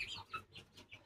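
Grey hens and guinea fowl cluck and call in short, repeated bursts close by in a farmyard, several birds overlapping with brief sharp notes and no talk.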